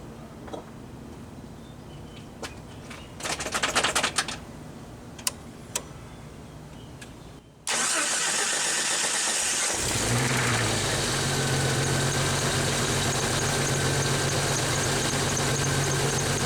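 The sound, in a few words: car engine starting and idling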